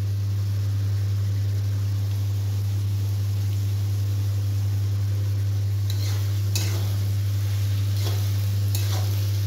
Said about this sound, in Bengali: পেঁয়াজটা ভালো করে ভেজে নিই, ভেজে নিয়ে তারপরে মশলাগুলো দেব।